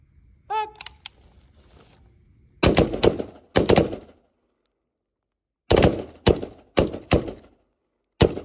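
AK rifle shots ring out at an outdoor shooting training range, sharp loud cracks in two close pairs, then a quicker run of four and a final shot, with quiet gaps between strings.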